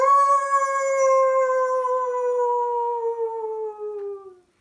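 A person imitates a wolf howl, a single long steady wavering tone that slowly falls in pitch before cutting off.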